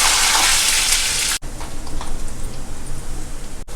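Garlic, dried red chillies and curry leaves frying in hot oil for a tempering, a loud crackling sizzle that breaks off abruptly and resumes as a softer, busy spatter.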